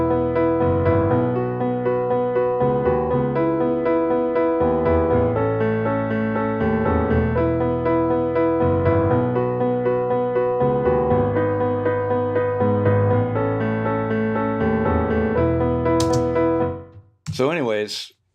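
A piano part of a song plays on a Yamaha Grand sampled instrument set to mono in Logic, steady repeated chords with a moving bass, close and full, cut off near the end by a short burst of other sound.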